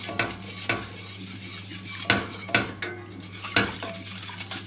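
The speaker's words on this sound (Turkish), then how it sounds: "Şimdi kaynayana kadar sürekli çırpacağız" Tarhana soup whisked continuously in a pot as it comes to a boil, with sharp scraping clinks of the whisk against metal at uneven intervals over a steady low bubbling hum.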